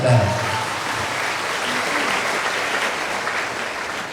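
A crowd breaks into steady applause, a dense wash of clapping that carries on evenly for several seconds after a brief voice at the start.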